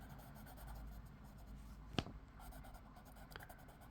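Colored pencil or crayon rubbed back and forth across paper to blend light blue into drawn grass, a soft steady scratchy texture close up, with one sharper tap partway through.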